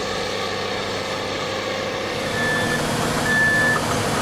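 A garbage truck arriving at a landfill rumbles steadily with engine noise, and two short reversing beeps sound out in the second half.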